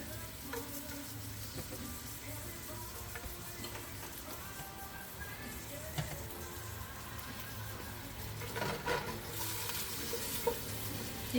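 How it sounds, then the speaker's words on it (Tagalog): Chopped garlic sautés in a pan for Filipino kare-kare, giving a soft, steady sizzle that runs quietly and evenly throughout, with faint clinks and stirring scrapes near the end and no talking. "isunod na po natin yung garlic. Ang bango na. Ginisa pa lang"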